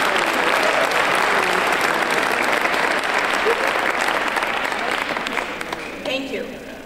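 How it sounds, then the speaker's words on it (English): Loud, dense applause from the audience at a fashion gala, a sustained wash of many hands that tapers slightly toward the end as a voice begins to speak. "So let's all give Natalia a big round of applause."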